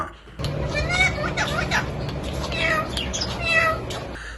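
A pet parrot mimics a cat's meow, giving a few drawn-out mewing calls at close range over a steady background murmur.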